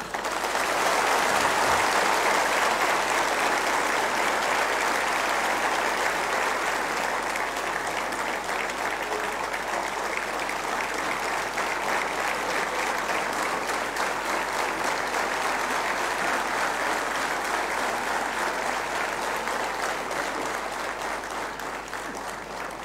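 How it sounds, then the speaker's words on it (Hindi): Sustained applause from a large audience at an event honouring cricketer Ravindra Jadeja, a dense, steady roar of clapping that holds loud for over twenty seconds before easing slightly at the end. "उसके लिए तालियां कमजोर थीं"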